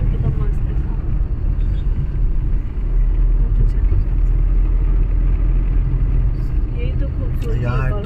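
Dense road traffic in Kolkata near Science City rumbles continuously, a low steady engine drone with scattered horn-like blips, while a person talks over it close by.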